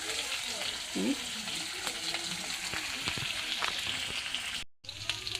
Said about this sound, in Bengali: আলুটা একটু লাল লাল করে ভেজে নেব।